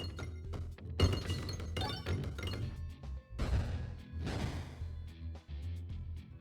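Orbs fired in the video game Peglin bounce off pegs with a run of sharp clinks and thunks, bursting in dense clusters and fading between shots, with no talking.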